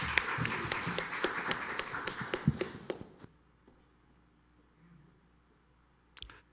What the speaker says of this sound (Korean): 우리 박수로 격려드리겠습니다